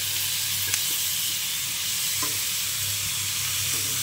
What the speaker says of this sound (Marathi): आपण आता यात आपले टोमॅटो ॲड करूया